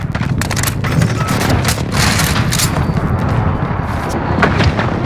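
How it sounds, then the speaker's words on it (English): Dense, loud game-battle din from Modern Warfare on PS5, with a precision airstrike's heavy booming blasts rolling continuously over scattered gunfire for the whole stretch, no pauses between impacts. "Precision airstrike, take cover!"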